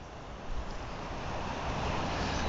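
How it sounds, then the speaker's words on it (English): A flooded river churning with whitecaps and rapids beside the C&O Canal, a continuous wash of rushing water mixed with wind noise, fairly faint and steady. "Out in the river, even though it's in flood stage, we see a lot of white caps and"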